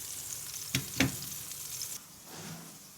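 Two quick clatters as diced onion drops into a hot pan, followed by a steady, soft sizzle of the onion frying close by.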